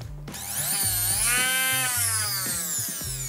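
Bosch ErgoMixx MS61B6150 hand blender running empty at its top speed, a steady high-pitched motor whir with a rising then settling pitch and a rhythmic low buzzing pulse beneath, close and alone.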